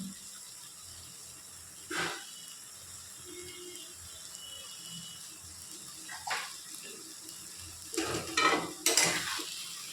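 Sugar is stirred into okra frying in a pan: soft sizzling under intermittent scraping strokes and metallic clinks of the spatula, growing busier toward the end.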